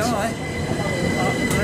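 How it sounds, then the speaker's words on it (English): A train pulls away from the platform at Leigh-on-Sea station in Essex, a steady broadband rumble with a faint high whine, fairly loud and continuous, with some talk beneath it. "Train is leaving, saying goodbye to the train."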